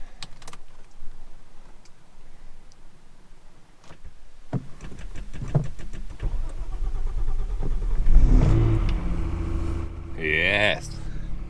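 Opel Omega 3.0 V6 car engine cranking and catching, then revving up with rising and falling tones, preceded by door and key handling sounds and light movement, recorded close by.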